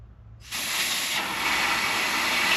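Compressed air from a compressor hose pressurising a brake caliper on a drive line: after a short quiet moment, a loud sharp hiss bursts in and holds steady, close and alone.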